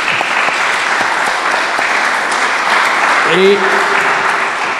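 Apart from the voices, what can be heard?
applause for Éric Cazot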